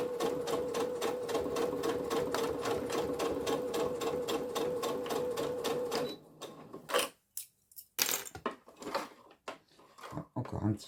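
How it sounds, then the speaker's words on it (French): A domestic sewing machine stitching fabric, a fast steady mechanical whir and rhythmic needle clatter for about six seconds, then stopping and starting in short bursts amid handling noises, close and clear. "Et je continue ma couture."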